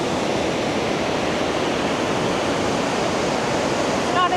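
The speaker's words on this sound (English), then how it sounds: "where you can see the rushing water. As it tumbles." Rushing water of a small waterfall near Banff tumbles in a steady, dense roar, close and continuous with no break, a brief faint tonal chirp near the end.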